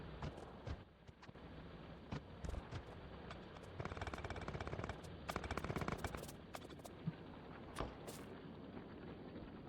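Gun turrets in the Factorio video game fire in rapid, crackling bursts, with clusters of sharp shots coming and going over steady background machinery hum, fairly faint overall.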